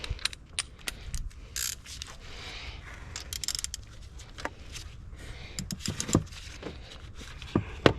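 Bolts on a Lexus SC430/LS430 are tightened by hand during an alternator replacement, giving irregular ratcheting clicks and metallic taps close by, spread across the whole stretch.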